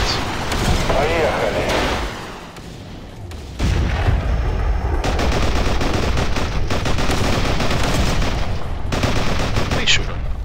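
Gunfire from the Half-Life 2 mod Entropy Zero 2 crackles in dense, sustained bursts through most of the stretch, with a brief lull before it resumes loudly, mixed with other game effects.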